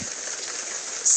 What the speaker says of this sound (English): Suddenly, it begins to rain cats and dogs.